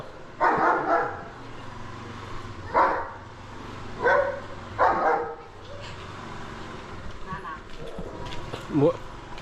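A dog barks outdoors in several separate bursts spread across the clip, fairly close, with a person talking in the background.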